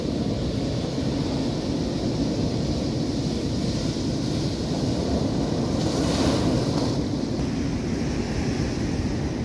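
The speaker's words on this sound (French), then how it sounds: "Il y a des belles vagues et puis elles se cassent." Continuous roaring surf at La Manga washes steadily, with waves crashing and a broad rush of water and wind throughout.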